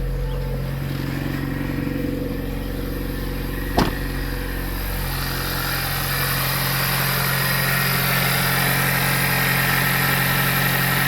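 A Ford EcoBoost engine with a newly installed Eurocompulsion V1 intake idles steadily, a low continuous rumble with a faint hum, interrupted once by a brief sharp click partway through.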